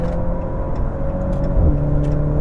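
Maserati Grecale GT SUV driving on the road, a steady engine hum close up with a slight drop in pitch partway through as it shifts, no voices over it.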